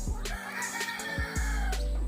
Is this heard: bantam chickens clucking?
yes